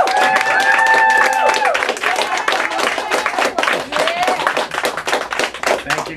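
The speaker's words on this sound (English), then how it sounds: "I would like to actually have you all applaud Jennifer Barnes and John Edward Lawson for what they've accomplished over the past decade" An audience at a fiction and poetry reading event applauds, with dense, sustained clapping from many hands that is loudest at the start and then continues with slightly uneven intensity.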